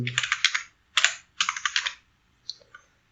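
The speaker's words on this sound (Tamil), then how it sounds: "விஸ்க்னு டைப் பண்ணதும் இங்கே பாருங்க உங்க ஆட்டோ விஸ்க் அப்படின்னு வருது" Computer keyboard typed on in quick bursts of clicky keystrokes, close and clear, with short pauses between runs and a few isolated taps at the end.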